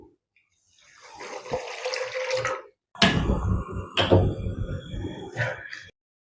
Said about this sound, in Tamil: தண்ணி சேர்த்துக்குவோம்.